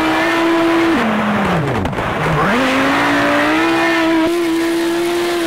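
Race car engine in the racing game Project CARS 2 revs hard and steadily, pitch dipping briefly as it shifts and then climbing again, with brief tire scrubbing, loud and up front with no talk.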